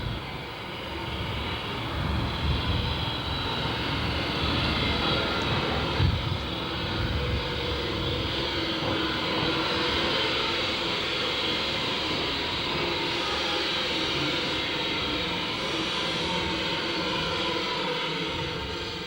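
Peckett-built 0-4-0 industrial tank locomotive No. 1 Lytham arriving at Butterley station with a passenger train, a broad steady rumble and rolling noise that swells and fades gently over about twenty seconds, with no speech.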